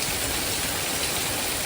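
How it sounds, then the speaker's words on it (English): Steady rain falling over a flood-hit home, a dense even hiss that stays loud and unbroken throughout. "More rain. That's what we were hoping for."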